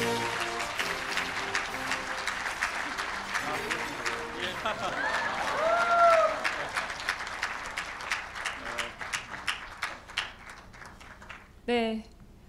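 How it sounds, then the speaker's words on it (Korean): Applause from the audience at a Korean journalism awards night, a broadband clatter that carries through most of the stretch with voices over it, ending in a short loud burst near the close. "다시 한번 큰 박수 부탁드립니다"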